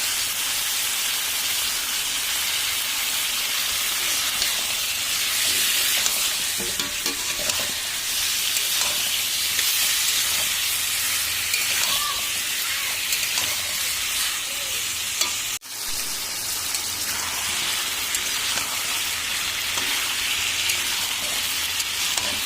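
Meat and potatoes fry in a pan seasoned with turmeric, giving a continuous loud sizzle and hiss with occasional stirring scrapes throughout.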